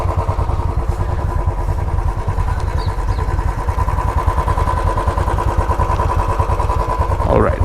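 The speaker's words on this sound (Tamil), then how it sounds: "வண்டியை வார்ம் அப் பண்ண விட்டுருக்கோம்" A motorcycle engine idles steadily while warming up outside a hotel in Kodaikanal, its close, loud, even chugging pulses running throughout with a brief flare near the end.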